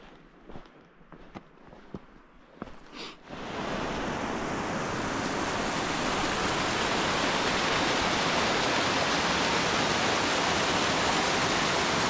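A waterfall in the wild Scottish Highlands on the Cape Wrath Trail roars as a loud, steady, dense rush that swells up after a few seconds of quieter rustling and stays constant to the end.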